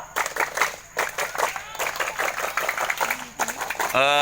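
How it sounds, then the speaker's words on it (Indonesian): Elementary school scout group does the rhythmic Pramuka scout clap before a hillside hike, patterned bursts of clapping mixed with children's voices, ending with a sudden loud tone. "Coba sebelum jalan tepuk pramuka."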